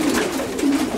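Racing pigeons coo in a loft during the final adult race flights of a season, a low soft throaty murmur repeating over about a second with no talk.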